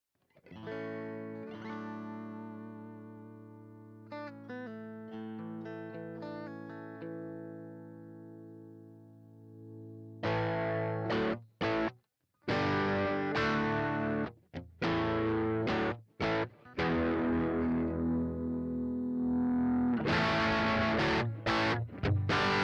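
Electric guitar through a small Vox MV50AC amp without a treble booster, slightly distorted tone: ringing picked notes at first, then choppy strummed chords with short pauses.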